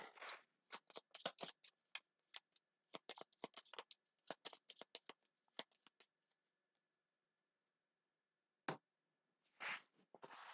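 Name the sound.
shuffling a deck of game cards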